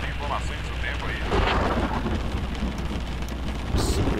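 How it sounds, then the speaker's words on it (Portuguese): Steady heavy rain pours down on a vehicle stuck in a traffic jam, a dense constant hiss of drops drumming on the surface, loud and close throughout, with no voice. "Faz tempo que tá chovendo aqui, faz acho que um dia já que tá chovendo."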